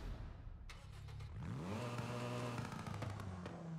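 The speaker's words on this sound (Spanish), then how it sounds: "Vamos a arrancarlo porque suena que te cagas este coche." A Hyundai i30N engine in the video game Forza Horizon 5, tuned to over 500 hp, turns over and revs up, climbing in pitch and then settling into a steady rumbling idle with a few louder bursts.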